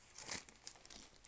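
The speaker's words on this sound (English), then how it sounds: "wrapped in the plastic bag." A clear plastic bag crinkles around a CGC-graded comic book, Amazing Spider-Man #569 graded 9.6, in a close, fairly quiet burst of sharp rustles and crackles lasting about a second, with no talking.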